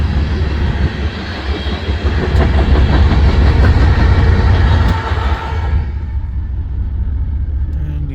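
Rear DPU locomotive at the end of an eastbound loaded coal train rolling past, loud rumbling diesel and rail noise with clanks, fading sharply toward the end as it moves away.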